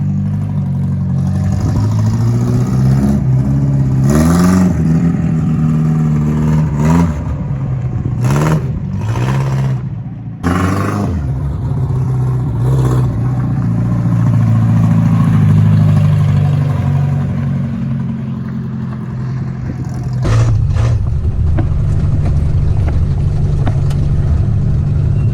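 A Datsun 1500 ute's engine runs steadily and loud nearby, with several quick revs rising and dropping early on before settling back to a rough idle and then a further rev near the end.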